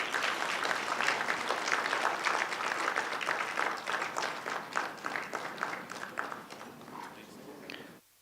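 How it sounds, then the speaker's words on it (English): Audience applause for a book launch at an Islamic economics and finance conference, a full, sustained round of clapping throughout, gradually thinning toward the end before stopping abruptly. "Please join us in a huge round of applause for the book launch."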